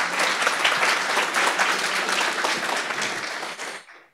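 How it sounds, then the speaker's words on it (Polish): Audience applause at a PHP programming conference in Poland, a dense, steady crowd clapping for the organizers that holds at full strength for about three and a half seconds and then fades out quickly. "gorące brawa dla organizatorów to się należą"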